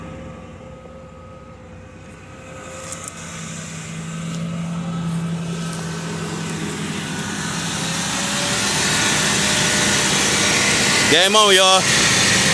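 A Ford Explorer with a 4.0 engine runs at a low, steady idle that gradually builds in loudness, while someone talks over it near the end.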